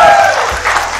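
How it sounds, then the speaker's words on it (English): Audience clapping at a dating game show, a dense burst of applause that starts loud and tapers slightly over about a second, with a brief voice at the start. "Clap for him now!"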